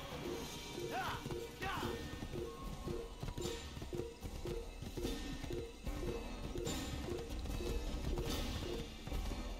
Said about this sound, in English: Just some guy on a horse going very quickly.